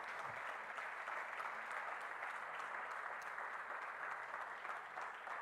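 A church congregation claps together during a sermon, a steady, even patter of many hands heard from some distance at low volume.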